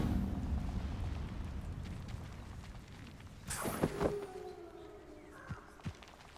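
A fire spell cast in the Hogwarts Legacy video game flares with a sudden whooshing burst over a rumbling game backdrop, followed by ringing magical tones and a couple of sharp trailing pops.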